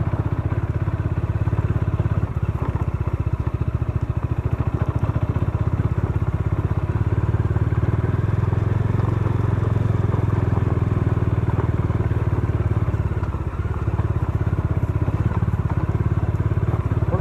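Motorcycle engine rumbles steadily on a rough, bumpy road during a group ride toward Panikot Lake on a new bike, with continuous close engine noise and rattling clatter throughout, no talk.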